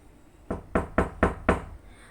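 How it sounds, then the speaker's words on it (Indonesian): Knocking on the door of a house: five evenly spaced, firm raps close by, with no voices and a quiet background between the knocks. "Saya ketok lagi."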